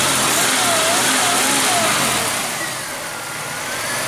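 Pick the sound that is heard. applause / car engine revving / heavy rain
car engine revving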